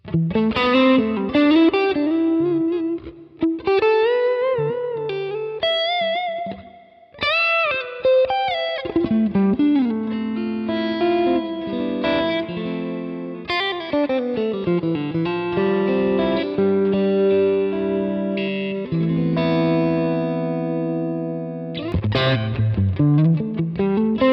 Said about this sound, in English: Now I'd like to have some reverb.